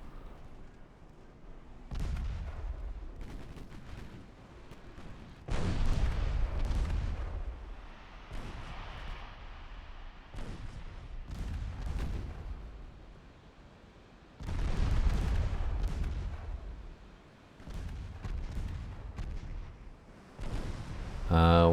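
Warship turret guns booming in a naval video game set in 1954, heavy salvos rolling out at intervals with long decaying rumbles, someone talking over them.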